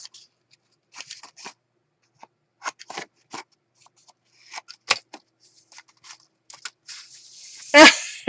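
Scissors cutting paper for a junk journal, a string of short crisp snips and rustles spread out irregularly, ending in a louder paper crunch, close and without talk.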